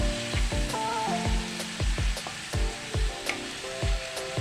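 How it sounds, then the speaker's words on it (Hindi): Ground coriander, black pepper and cumin being stirred into frying keema, with steady sizzling under a rhythmic series of spoon scrapes and taps against the pan, close and fairly loud, with no voices. "ये सारे मसाले अब मैं इसमें शामिल करके अच्छी तरीके से मिक्स कर लूँगी।"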